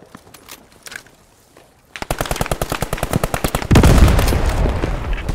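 Gunfire in the Post Scriptum World War II shooter game: scattered distant shots give way to a loud, rapid machine-gun burst with evenly spaced cracks, then a denser continuous volley close by.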